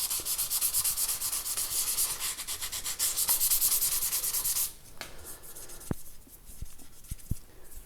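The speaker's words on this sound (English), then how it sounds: "flat off with some 600 wet and dry paper" A guitar body for a thinline Telecaster being gently sanded flat with 600 wet and dry paper: steady close rubbing strokes at first, then quieter scattered taps and brief scuffs.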